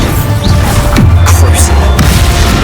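A Bombarda spell explodes in Hogwarts Legacy as a loud, dense blast and crashing rumble fill the whole stretch, with a few sharp impacts and swooshes layered over the din.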